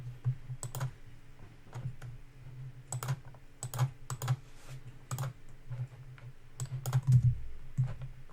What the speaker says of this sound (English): My bad for typing the first number instead of the magic number.